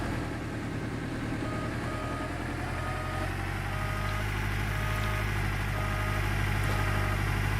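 A generator drones steadily with a low, constant engine hum that slightly swells toward the end; no voices are heard.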